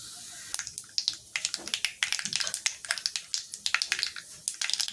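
Mustard seeds crackle and pop in hot oil while tempering for a chayote kootu, a steady run of sharp, close, irregular pops and sizzles with no talk.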